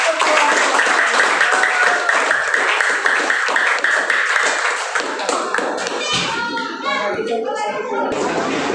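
Audience at an Indonesian language teaching presentation applauding, a dense sustained clapping that thins out toward the end, with voices mixed in.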